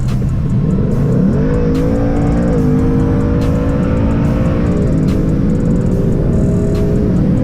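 A 2019 Ford Mustang GT on an E85 race tune accelerates hard in a straight line, its engine note climbing steadily through gear changes, loud and close from inside the car.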